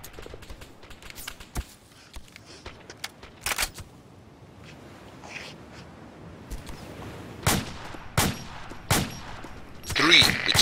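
Scattered gunshots crack in the ARMA 2 combat game, single and short clustered reports at varying distances over quiet ambient background, with denser fire near the end.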